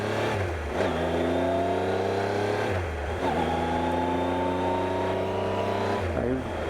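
A Triumph Trophy SE motorcycle engine revs hard through several gears, each rising pull cutting off at a shift before climbing again, loud and close with steady wind noise and no talking.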